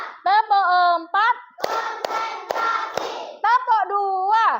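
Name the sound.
children clapping hands in counted claps in class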